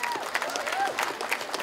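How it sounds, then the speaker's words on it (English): Audience applause at a Vodafone Christmas event in the park, a steady wash of clapping from a crowd lasting under two seconds, fairly loud and continuous with no one speaking. "please, a big round of applause for Vodafone"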